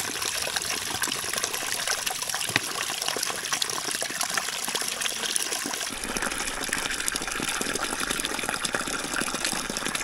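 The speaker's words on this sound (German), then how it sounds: "Ich glaube, ich werde hier Trinkwasser auffüllen." Mountain spring water gushes and trickles steadily into a container as drinking water is refilled during a deep-snow winter hike, a continuous close splashing flow that grows slightly fuller partway through.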